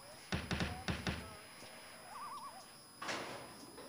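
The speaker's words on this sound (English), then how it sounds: "Knock on the door." Four quick hollow knocks on a door in the video game Full Throttle, loud and close, followed by quieter room tone, a short warbling tone and a later muffled thump.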